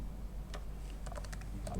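Rapid clicks of keys on a computer keyboard as a password is typed, a quick irregular burst of close taps over a low steady room hum.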